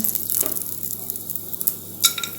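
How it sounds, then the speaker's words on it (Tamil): Whole cinnamon and cloves drop into hot ghee as tempering for jeera rice, giving a light, close crackling sizzle with a few sharp pops and utensil clinks, with no voices. "இப்போ நெய் காஞ்சோடனே தாளிப்புக்கு இதெல்லாம் போட்டுடலாம் பட்டை கிராம்பு"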